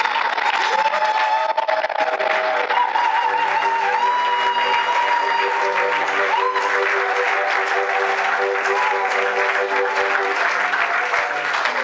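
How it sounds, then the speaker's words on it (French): A church congregation applauds and acclaims Jesus, sustained dense clapping and cheering throughout, with a voice speaking and tonal sounds running beneath the crowd. "on va se lever, on va acclamer Jésus maintenant"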